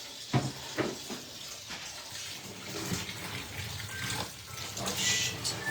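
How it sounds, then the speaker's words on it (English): Tap water rinsing dye out of a spiral tie-dye shirt, a steady close splashing flow in a sink with a few knocks of fabric being handled, no talking. "Try and rinse out the rest of the"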